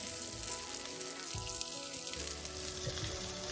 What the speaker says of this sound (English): And it will also fry the onion as it, you know.